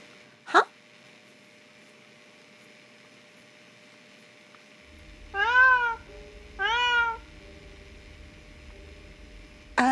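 A kitten in the video game Illusion of Itehari gives two clear, close rising meows a second apart, preceded by a short sharp click and set against quiet hum.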